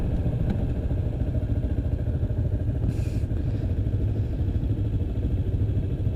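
A motorcycle engine drones continuously at a steady pitch under a constant throbbing rumble while riding, with a brief hissy burst partway through and no speech.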